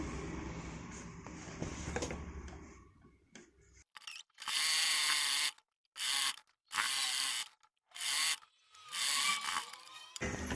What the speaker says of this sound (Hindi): इस तरीके से हमने 1-1 इंच फोल्ड करके सिलाई लगा लेनी है